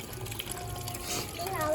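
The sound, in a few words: filling water balloons with water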